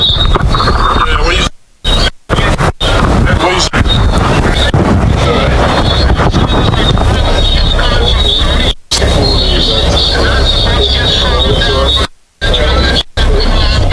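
Strong wind buffets the microphone at a Class A sailboat race on Anguilla Day, making a loud, rough, continuous roar with brief dropouts, while people talk underneath.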